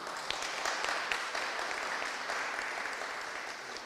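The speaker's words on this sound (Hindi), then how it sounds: "जोरदार तालियां अजय के लिए।" Congregation at St Paul's Slough Asian Fellowship Friday prayer meeting giving a round of applause for Ajay; continuous, moderately distant clapping from a roomful of people, steady and fairly quiet.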